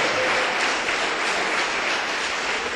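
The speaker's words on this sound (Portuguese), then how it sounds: "uma salva de palmas para Jesus aí" Congregation applause in a church service, a thick continuous roar of many hands clapping together, loud and even from start to finish with no speech over it.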